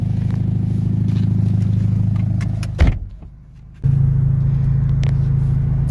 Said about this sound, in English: I notice when it's idling, it shakes the seat.